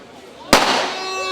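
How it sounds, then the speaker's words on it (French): A single sharp firecracker bang bursts out during an outdoor political rally of the Alliance Nationale in Rose-Belle, loud and sudden with a lingering crackling, echoing tail over crowd murmur. "Pétard, il interrompt meeting"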